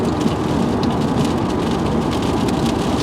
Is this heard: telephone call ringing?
no